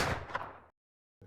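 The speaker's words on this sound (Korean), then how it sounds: "갑자기 박경희와 아이가 있는 집 쪽에서 총소리가 들려왔고" A single sharp gunshot cracks out loud and close in a horror story scene, followed by a brief silence and then a faint low rumble.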